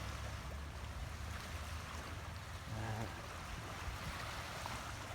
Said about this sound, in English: you can start to hear the water. It's got the waves are slushing in.